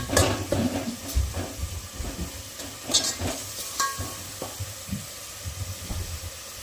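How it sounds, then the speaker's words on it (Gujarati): Gunda curry gravy sautéing in oil in a pan, a steady close sizzle broken by frequent scraping stirs with a spoon, without any talking. "ગ્રેવી આપણી થોડીક વાર સાતળવા દેવાની આ રીતે તેલ છૂટી જાય ને ઉપર"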